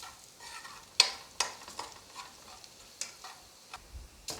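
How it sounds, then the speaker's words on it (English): Garlic and parsley flakes simmer in a pan for a spaghetti sauce, a soft, close bubbling sizzle broken by several sharp scrapes and clicks of stirring. "I'm going to add my parsley flakes and allow it to simmer for another 30 seconds"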